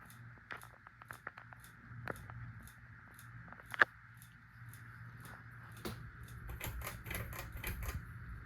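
A 44-inch Hunter Coastal Breeze ceiling fan wobbles, giving off irregular light clicks and ticks over a steady motor hum, the clicks quickening and bunching toward the end.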